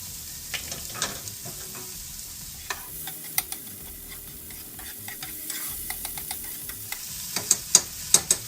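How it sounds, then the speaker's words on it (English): Meat and cream cheese dip browns and simmers in a hot pan, a soft continuous sizzle with clicks and scrapes of stirring that grow sharper and more frequent toward the end. "while it's simmering and that meat's really just browning up"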